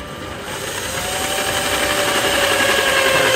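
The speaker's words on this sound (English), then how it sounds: "Now the starter bit." A power drill with a starter bit whirs steadily and close by, drilling holes for fender flares, its pitch and loudness building slightly as it runs continuously.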